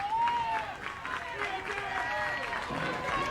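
Maine players at a 2021 Little League Baseball game against New Hampshire clap for an injured opponent leaving the field, a soft ballpark applause with crowd murmur beneath a commentator's voice.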